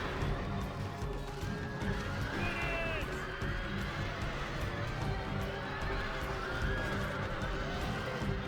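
Horses neigh and whinny over a dense battle din with galloping hooves and clashing in Rome: Total War, a couple of rising whinnies standing out above the constant rumble of fighting.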